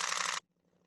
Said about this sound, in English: So when you hold down the shutter,